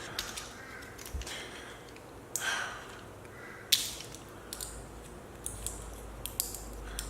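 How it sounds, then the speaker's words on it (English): Scissors snip through a small item to cut it in half, giving a few brief, sharp clicks and scraping cuts spread over several seconds, close by in a quiet room. "I'm just gonna cut that in half first"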